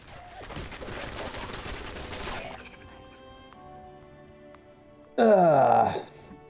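Automatic turret gunfire in Fallout 76, a rapid rattling burst for about two seconds, followed by a quieter lull and then a sudden loud crashing blast, with a player's voice in between.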